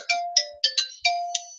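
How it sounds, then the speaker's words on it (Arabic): A telephone rings with a bright, repeated electronic ring tone, sounding several quick, clear chimes in a steady rhythm with no voices over it. "انا اعتذر، التليفون بيرن"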